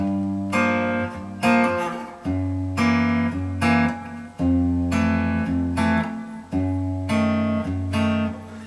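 A guitar plays a bossa nova rhythm, the thumb plucking low root notes while two fingers pluck chords above, repeating in an even syncopated pattern, close and clear with no talk.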